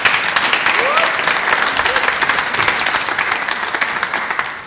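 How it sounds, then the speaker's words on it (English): Audience at a master's graduation ceremony in public health claps loudly for graduates, sharp individual claps in a dense stream, with faint voices underneath and the applause thinning out toward the end. "Okay, maybe clap."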